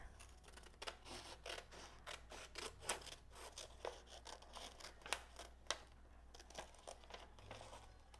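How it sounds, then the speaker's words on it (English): Scissors snip paper in a series of quick, close, quiet cuts with uneven spacing, mixed with light paper rustling while cutting out a shape. "I'll snip that off."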